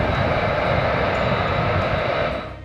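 Airbus A380 four-engine jet aircraft: a steady, loud broadband engine roar with a thin high whine, holding constant before tapering slightly at the end.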